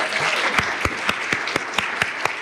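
A live conference audience claps in a steady burst of applause, with sharper individual claps standing out roughly every quarter second over the continuous patter.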